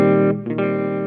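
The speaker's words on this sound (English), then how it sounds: "filter reverb" Electric guitar through a Mooer GE-300 multi-effects unit on its filter reverb setting: a sustained chord held for about a second, with a brief swept, filtered dip in the middle before the tone settles back, loud and alone.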